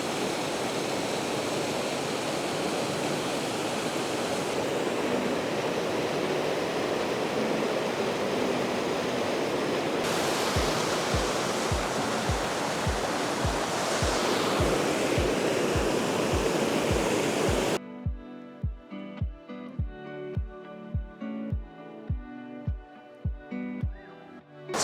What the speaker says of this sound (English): So Enders Falls is one of Connecticut's best waterfalls, and it's actually a series of 5 individual waterfalls, this being the first one at the very top.